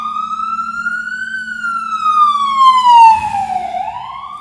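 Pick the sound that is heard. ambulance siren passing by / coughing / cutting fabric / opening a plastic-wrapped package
ambulance siren passing by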